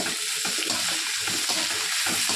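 Onions and tomatoes sauté in a pan for chicken biryani, giving a continuous close, loud sizzle with soft stirring strokes mixed in throughout.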